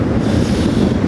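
Steady, loud wind roars across an open exposed landscape with wind turbines, blowing constantly off the Atlantic and buffeting the microphone with a dense rushing noise throughout, with no voices.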